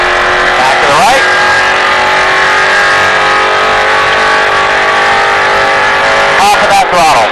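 A NASCAR race car at speed on the Las Vegas track drones loud and steady at high revs, with brief engine swoops near the start and end, while a voice talks over it.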